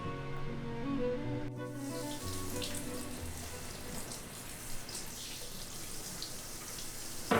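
Water runs steadily from a kitchen tap into the sink while a cutting board is washed, a continuous close splashing hiss with faint knocks, preceded by a brief moment of other kitchen noise.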